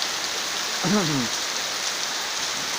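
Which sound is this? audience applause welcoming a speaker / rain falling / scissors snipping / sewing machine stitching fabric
rain falling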